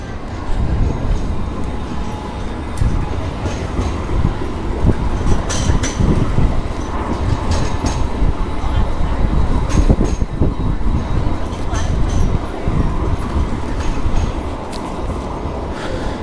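A tram rumbles steadily nearby for a long stretch in central Sydney, its wheels clicking and squealing faintly on the rails as it rolls in.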